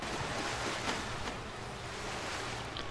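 Rushing water on an epic water slide in a video game, a continuous broadband splashing wash that stays steady and fairly loud throughout, with no talk over it.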